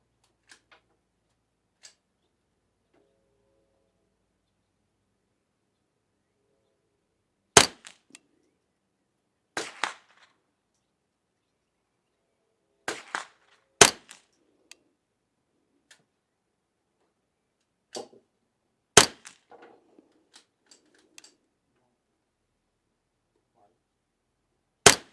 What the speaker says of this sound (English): Let's get these other 4 shots off.